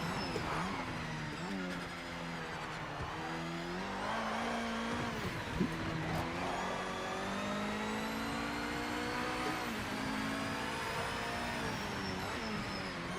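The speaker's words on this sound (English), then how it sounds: "Do you hear the whining of the transmission?" A high, steady transmission whine rises and falls with a video game race car engine revving and shifting, loud and continuous throughout.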